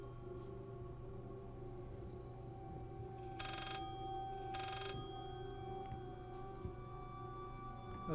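An old telephone ringing in the horror video game Layers of Fear, two bursts of bell ring over a droning ambient hum, moderately loud and slightly distant, with no talking.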